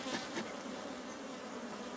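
African honey bees drone steadily at a hive in Ghana, a dense, continuous buzz from many insects close by with no pauses.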